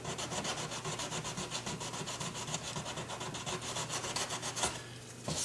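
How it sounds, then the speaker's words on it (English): A plastic seam on a part being prepped for paint is sanded by hand in quick, steady back-and-forth strokes, close up and continuous. "so what I do is I sand that out of the actual top plastic"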